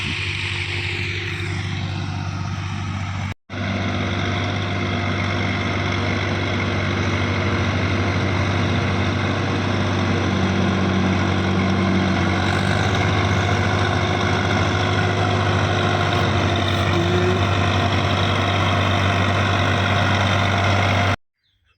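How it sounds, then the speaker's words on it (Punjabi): A tractor engine idles steadily and loudly throughout, a constant low rumble with a brief cut near the start. "ਟਰੈਕਟਰ ਲੈ ਕੇ ਆ ਗਏ ਅਸੀਂ ਆਪਣੇ ਘਰ ਕੋਲ"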